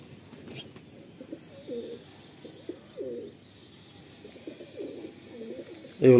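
Pigeons offered for sale coo in repeated low, throaty phrases through the clip, with a louder thump at the very end.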